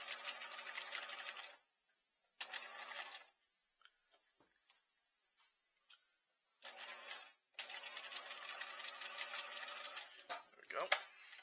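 A sewing machine back-tacking a skirt waistband seam runs in loud, close bursts of rapid stitching separated by pauses, with scattered clicks and handling sounds in between.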